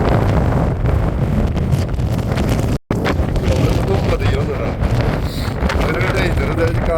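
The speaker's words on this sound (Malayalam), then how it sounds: "ഞാൻ ഈ കാറ്റിൻ്റെ സൗണ്ട് നെറ്റാക്കാത്തതും മ്യൂട്ടാക്കാത്തതും" Strong gusting wind on an exposed mountain slope, roaring loud and continuous into the microphone with only one brief dropout, buffeting throughout.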